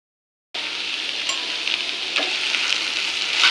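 Okra fries in a pan with a steady, bright sizzle that starts abruptly after a moment of silence and runs continuously, with faint scraping and stirring clicks.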